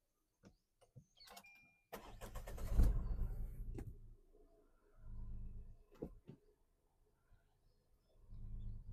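A 2022 Tata Altroz XZ petrol car with keyless entry starts with a surge of cranking and engine roar, then settles into idle bursts, recorded nearby with short clicks and pauses.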